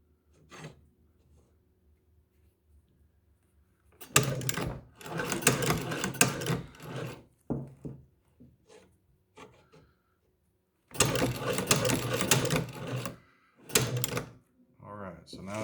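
A leather patcher sewing machine stitches a patch onto a motorcycle vest in two loud bursts of rapid stitching, separated by quiet gaps with small handling knocks and rubbing sounds.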